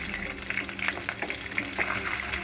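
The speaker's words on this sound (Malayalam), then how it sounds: "എണ്ണ ഒഴിച്ചിട്ട് കടുക് താളിക്കാം. കടുക് അല്പം ഇട്ട് അതിൻ്റെ കൂടെ കറിവേപ്പില" Mustard seeds and curry leaves crackle and spit in hot oil in a pan, a steady close sizzle with scattered sharp pops throughout; no talking.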